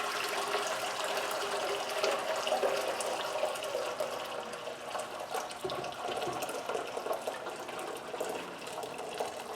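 Water runs steadily from a tap, heating up, a continuous hissing splash at moderate volume with no voices.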